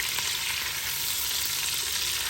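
Meatballs frying in a very hot pan give off a steady, dense sizzle that holds at even loudness throughout, close and without voices.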